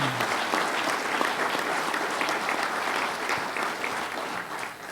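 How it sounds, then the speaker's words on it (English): A loud, dense round of audience applause at a governor's public-private investment announcement, with sustained clapping that gradually tapers off. "And let's give them a round of applause."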